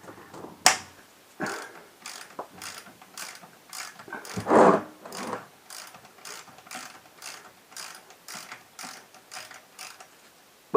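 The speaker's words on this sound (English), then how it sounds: "We're going to take a 6mm socket. If you have an Allen wrench, that's fine." A 6mm socket on a ratchet works a fastener during an oil change on a Ducati M1100 motorcycle, giving steady rows of close, crisp pawl clicks in short bursts, with one louder knock partway through.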